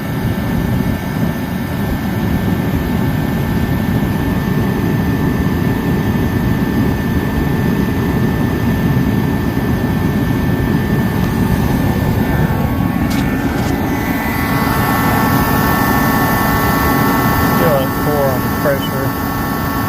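An 80,000 BTU diesel forced-air heater running below its normal heat output, a steady loud fan-and-burner roar with a constant hum; faint clicks and a brief voice appear late.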